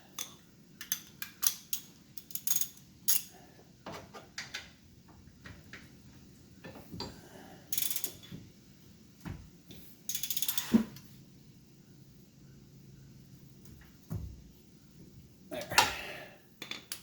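Ratchet clicks and mechanical handling while a gearbox drain plug is tightened on a 2019 Can-Am Maverick Sport XRC during a differential oil change; scattered short bursts of clicking with quiet gaps, no talk.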